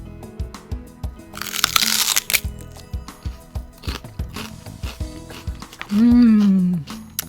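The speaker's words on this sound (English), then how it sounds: "Prepare a dip and eat celery stalks" Celery stalks being bitten and chewed, giving a run of close, crisp crunches and cracks in a steady eating rhythm, with a brief voiced sound near the end.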